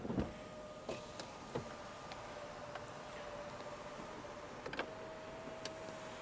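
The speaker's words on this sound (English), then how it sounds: "Power moonroof." A 2015 Subaru Legacy power moonroof motor hums faintly and steadily as it opens, with scattered small clicks and ticks over a quiet cabin background.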